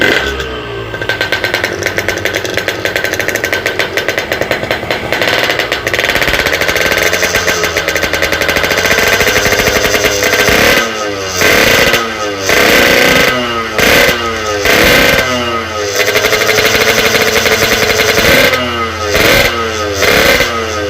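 A modified Yamaha RX King two-stroke motorcycle with a custom aftermarket exhaust idles loudly and close, then revs hard in a series of sharp, rising throttle blips with crackling pops between them.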